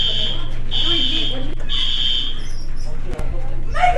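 A school fire alarm rings after being pulled: a steady high electronic tone pulses in long repeated bursts over a continuous low hum, with kids shouting and talking loudly throughout.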